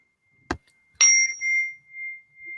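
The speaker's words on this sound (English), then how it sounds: "So I have these little chimes." Small chimes used for sound healing are struck twice, a short tap and then a brighter strike whose clear, high tone rings on and slowly fades, close and alone.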